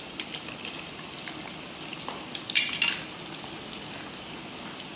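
Cheesy cutlets fry in mustard oil over a medium flame, giving a soft, steady sizzle with a brief louder crackle burst midway, fairly close and alone.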